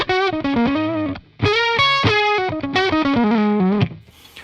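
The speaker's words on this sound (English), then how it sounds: "So it's that octave fuzz." An electric guitar plays a melodic phrase through a Roger Mayer preamp with octave fuzz, a thick, buzzy tone, sustained notes ringing loud and saturated, with no voices.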